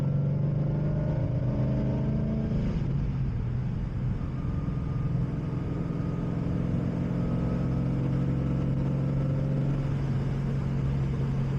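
A 2011 Ford Mustang GT V8 engine at night, a continuous deep rumble heard from the cabin with a rising note early on, then steady cruising drone, loud and close with no talking.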